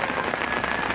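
Dense, steady rain pattering on a surface at a seaside pier, a continuous close hiss of drops with no voices.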